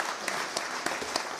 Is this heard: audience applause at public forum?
yes